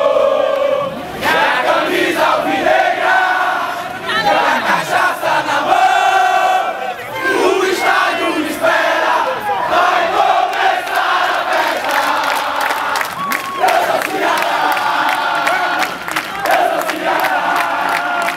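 A packed football stadium crowd roars a rhythmic chant for Ceará, many loud voices singing together in unison without a break.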